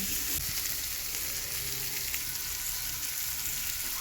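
Potatoes and onions being sautéed with salt, turmeric and ground spices in a kadai make a dense, continuous frying sizzle, with faint stirring scrapes underneath throughout.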